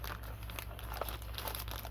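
A resealable plastic bag from a diamond art kit being handled, giving a soft continuous crinkling and rustling close by with small crisp peaks, over a steady low hum.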